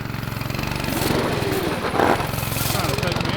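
Stock engine of a cheap drift trike running steadily and loud, with a rough buzzing drone that swells slightly midway; voices can be heard talking over it.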